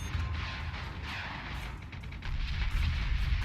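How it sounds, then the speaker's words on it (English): Missile fire in the space combat game Battlestar Galactica Deadlock, a dense rumbling barrage of booming blasts that swells louder near the end, with no talking over it. "Missiles incoming."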